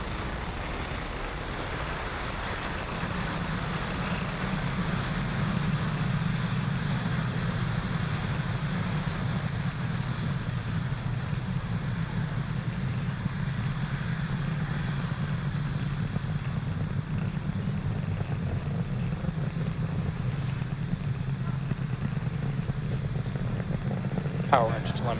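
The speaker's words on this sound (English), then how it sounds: "Falcon 9 has successfully lifted off from pad 40" Falcon 9 rocket engines roar continuously after liftoff from pad 40, a deep steady low rumble that holds for the whole stretch, heard distantly with faint mission-control voices underneath.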